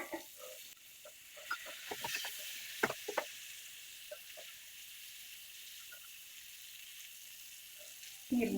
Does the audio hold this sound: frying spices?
yes